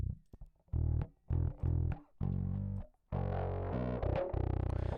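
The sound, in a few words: bass guitar through distortion box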